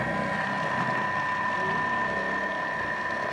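A Thermomix TM5 turns marble cake batter at speed 5 in reverse, giving a steady, continuous mechanical whir with a droning motor tone and no pauses.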